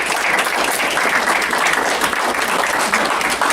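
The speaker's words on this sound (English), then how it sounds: "Can we give them a round of applause?" Loud, dense applause from an audience at a Town of Plattsburgh meeting, many hands clapping in a continuous even roar that fills the whole short stretch.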